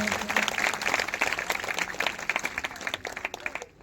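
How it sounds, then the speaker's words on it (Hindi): Loud, sustained clapping from a large crowd at a church ministry gathering, steady and dense throughout, fading slightly at the very end. "जोरदार तालियां बजाएंगे प्रभु के लिए"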